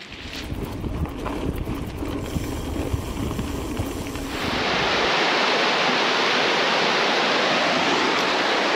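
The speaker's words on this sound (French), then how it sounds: "je suis en train de suivre une rivière qui s'appelle l'Alagnon" The Alagnon river rushes past a salmon weir, a loud steady broadband roar of flowing water that swells and fills the second half after a rougher, clattering start.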